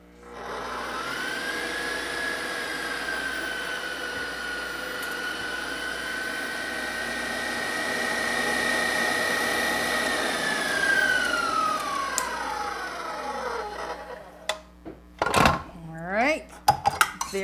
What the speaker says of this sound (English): here's 1 cup of heavy whipping cream that I'm going to beat to almost stiff peaks